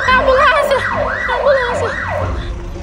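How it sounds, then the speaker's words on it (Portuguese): An ambulance siren wails in repeated rising and falling sweeps at an accident scene, loud and close, with a steady rhythm of about four cycles over a few seconds and background commotion. "Ambulância."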